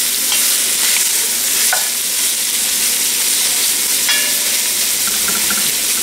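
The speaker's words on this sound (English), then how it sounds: "So that was 2 medium onions sliced in on medium heat in your Dutch oven with 2 tablespoons of unsalted butter" Two medium onions, halved and thinly sliced, frying over medium heat in unsalted butter in a Dutch oven: a dense continuous sizzle broken by scraping stirs, close and fairly loud.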